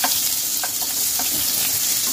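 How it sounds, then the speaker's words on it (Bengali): Raw green banana pieces, dipped in turmeric-salted water, sizzle steadily in hot oil for a Bengali shukto, with occasional stirring scrapes over the continuous frying hiss; no voices. "কাঁচকলাটাও লাল লাল করে ভাজা হয়ে গেছে।"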